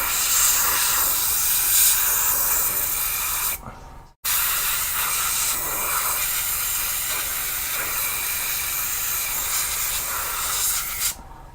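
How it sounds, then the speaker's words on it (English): An airbrush sprays paint onto a scale model in long, steady hissing bursts, with a brief cut-off near the middle and another near the end. "Now, this is not the greatest airbrush in the world"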